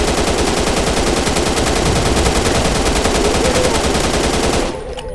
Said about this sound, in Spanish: ahora sí, a disparar, a ver si caen.